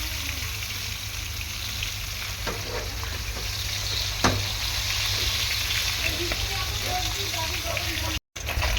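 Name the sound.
snakehead (shol) fish frying in oil, being turned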